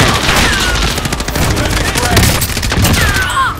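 Dense, loud bursts of automatic gunfire and explosions from a Call of Duty Warzone battle royale match, rattling continuously for several seconds.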